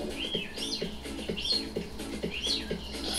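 Satin bowerbird calls in a steady sequence of whistled chirps and downward-sweeping notes over a low background hum, fairly close and moderately loud.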